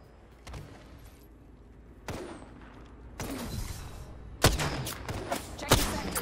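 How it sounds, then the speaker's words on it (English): Gunfire in the video game Apex Legends: scattered sharp shots that build into heavier, louder bursts and volleys toward the end, close and punchy over a low background rumble. "A second squad is firing at us."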